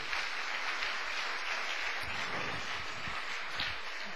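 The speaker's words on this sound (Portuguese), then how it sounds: "Agora você pode dar outra salva de palmas para o Senhor." A church congregation applauding in praise, a broad wash of clapping that stays even and continuous, moderately loud with a faint hum beneath.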